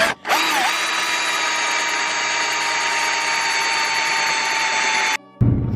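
A power tool works a wheel off a Ford Mustang GT in one loud, steady high whine lasting several seconds. It cuts off abruptly near the end, then makes a brief burst.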